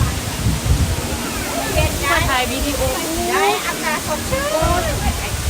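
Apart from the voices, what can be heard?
waterfall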